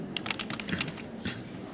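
Rapid typing on a computer keyboard, a quick run of close, light key clicks followed by a couple of slower taps, heard alone at moderate level.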